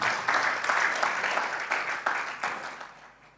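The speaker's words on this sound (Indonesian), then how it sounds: "berikan tepuk tangan" Church congregation applauding during a Sunday afternoon service, a dense wash of clapping that swells briefly and then fades out over a few seconds.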